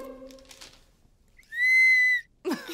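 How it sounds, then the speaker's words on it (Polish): A toy party whistle gives one steady, shrill tone lasting under a second, close and clear, between children's voices talking before and after. "Spójrzcie, gwizdek!"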